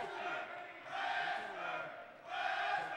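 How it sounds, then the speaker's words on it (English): Volleyball crowd at a Western Carolina versus Appalachian State match cheering and shouting in support during the fifth set, a loud sustained roar that swells in waves, with no talk over it. "the crowd is letting the Catamounts know their support"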